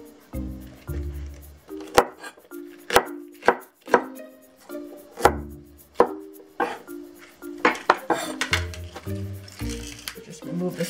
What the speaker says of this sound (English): let's slice up the mustard green